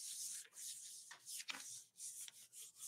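Washi tape is rubbed down onto paper with repeated close, soft, dry swishing strokes that come in quick uneven passes, quiet and intimate, with no talking.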